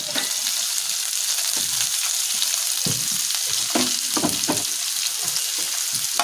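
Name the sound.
chopped onion frying in oil with whole garam masala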